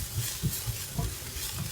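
Paprika and green onion stir-frying in perilla oil for a tofu and egg dish, a soft steady sizzle with a few low scraping stirs of the spatula, close and fairly quiet, no talking.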